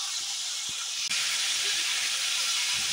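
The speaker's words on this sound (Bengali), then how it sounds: "এই দেখুন আমার মাংসটা বেশ ভাজা হয়েছে।" Chicken fries with onions in a pot for Mughlai chicken handi, giving off a loud, steady hissing sizzle with a brief dip partway through, close and continuous, with no talking.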